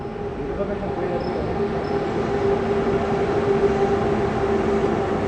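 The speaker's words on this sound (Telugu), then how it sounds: "ట్రైన్ చూద్దాం ఏ ట్రైన్ వస్తుంది" A train on a railway track, steady continuous rumble with a sustained tonal hum throughout, fairly loud and close, with no voices heard.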